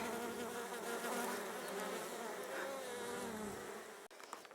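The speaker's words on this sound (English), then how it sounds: "That's a drone making all that racket." A drone honeybee buzzes loudly at the hive, a steady close droning hum with wavering pitch that cuts off abruptly near the end.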